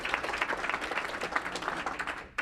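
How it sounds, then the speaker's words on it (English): Members at a Rotary Club Tuesday luncheon applaud in a smaller room with a steady, moderately quiet patter of clapping hands that fades out abruptly at the end. "So round of applause and congratulations to"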